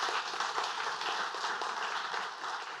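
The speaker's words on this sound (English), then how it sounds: "Round of applause, everyone," Audience applause at a business talk event, an even, continuous wash of clapping from a room of listeners, moderately quiet and heard alone without speech for under three seconds.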